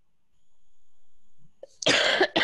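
After near silence, a person coughs sharply two or three times close to the microphone.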